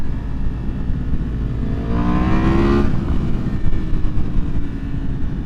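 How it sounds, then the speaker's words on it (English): A motorcycle engine, apparently a Yamaha MT-10, revs up in a rising swell and then settles back to a rumbling idle, loud and close with no talking. "That's just a good sounding motor."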